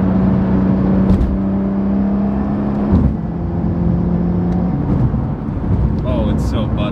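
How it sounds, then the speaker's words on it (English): A Nissan R35 GTR engine drones loudly and steadily from inside the car as it shifts through the gears, with the tone dropping at each change. "look, she just shifts through the gears"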